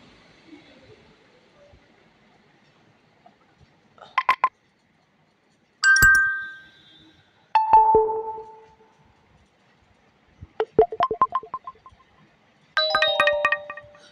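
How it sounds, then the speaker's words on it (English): Short synthetic phone notification tones set for Instagram video chat alerts, played as separate bright chimes and rapid tone bursts with silent gaps between them, close and clean with no talking. "So for this I'll keep a different ringtone."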